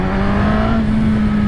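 A 2022 Suzuki Katana motorcycle pulling hard under acceleration with a quick shifter, its loud steady engine note holding a sustained tone over wind noise.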